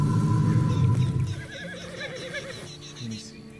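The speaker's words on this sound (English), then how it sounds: "Get on the horse when you're ready." A horse whinnies in the video game Red Dead Redemption 2, a wavering neigh that trails off after a loud low rumble at the start, fairly close, with light background game sounds.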